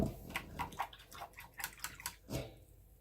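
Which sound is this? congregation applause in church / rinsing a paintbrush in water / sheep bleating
rinsing a paintbrush in water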